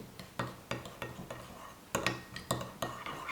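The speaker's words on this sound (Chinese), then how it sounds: "然后我们把酱卸开，搅拌均匀" Soy sauce, dark soy and dry yellow bean paste being stirred together in a bowl for a pork filling, a spoon clinking and scraping in quick repeated strokes, close and fairly quiet.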